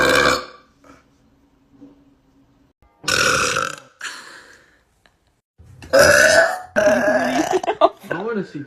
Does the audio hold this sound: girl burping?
yes